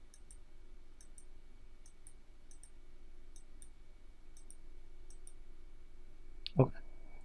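Soft mouse clicks come in a light, evenly spaced series while trees are placed on terrain in Unity, faint and close over a quiet hum, ending with one louder knock near the end.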